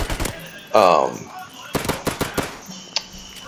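An MP44 rifle fires in a video game in rapid automatic bursts of sharp, close cracks, with separate short volleys spread across the clip and someone talking over parts of it.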